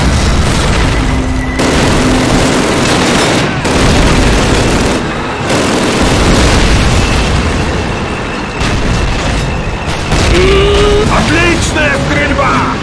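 Call of Duty gunfire cracks and booms in rapid bursts, some like explosions, over loud battle noise, with voices shouting in between.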